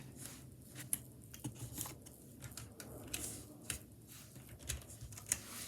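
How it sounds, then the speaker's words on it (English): Akko Jelly Black mechanical keyboard switches get their keycaps pressed back on, producing a series of irregular light plastic clicks and taps, with a few sharper snaps standing out over a quiet background. "Now let's put the keycaps back on."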